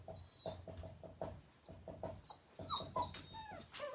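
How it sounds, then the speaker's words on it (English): Upset puppy whimpering in a series of thin, high whines and yips with short pauses, fairly close and moderately loud, with a faint background hum. "Puppy's getting upset again."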